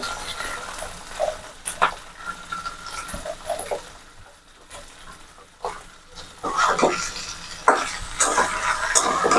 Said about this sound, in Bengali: এবার একটু নাড়াচাড়া দিয়ে নিলাম